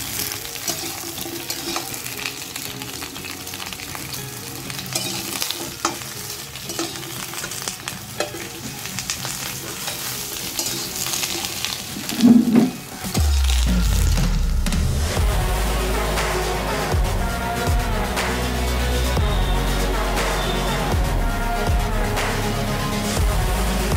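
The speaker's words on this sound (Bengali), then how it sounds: "এগুলোকে আমি ভালো করে ভেজে নেবো" Vegetables for shukto, a vegetarian Bengali dish, fry in a pan with steady stirring. The sizzle swells sharply into a loud, continuous crackle partway through and holds close and dense to the end.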